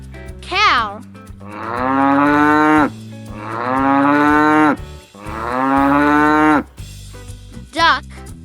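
A cow lets out three long, loud moos, each held for about a second and a half, set against light children's music with short whistling swoops before and after.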